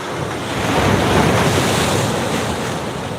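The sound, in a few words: ocean swell waves coming in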